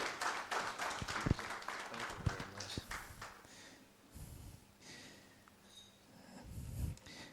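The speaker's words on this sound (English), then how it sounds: "Please, a round of applause for him as he comes to the podium." Applause at an official launch event for an EMIs chamber in Ghana, with scattered claps and shuffling that come in bursts and fade out as someone walks up to the podium.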